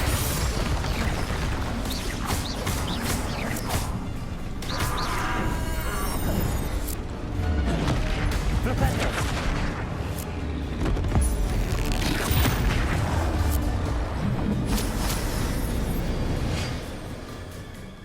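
Spell explosions in the Hogwarts Legacy video game: repeated booms and crackling bursts in dense, overlapping volleys, loud and close throughout with barely a pause.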